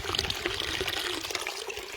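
Clean natural water flows through small brooks in green countryside, a steady close rush and trickle that runs continuously with no voices.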